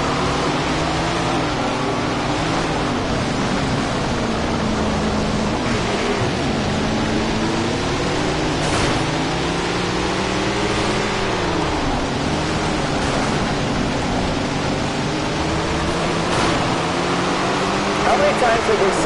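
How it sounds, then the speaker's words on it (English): Dirt track race cars roar together as the race starts, a dense, continuous engine drone with rising and falling pitch sweeps, loud and sustained, while an announcer talks over it. "Listen to those engines as we get ready to go"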